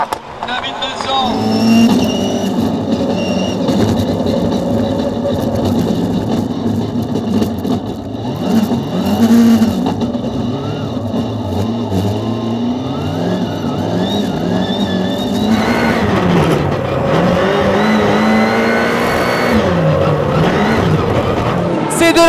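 Rallycross race cars at Dreux in France roar past close by in a dense pack, engines revving and shifting continuously and loud, with an excited commentator talking over them throughout.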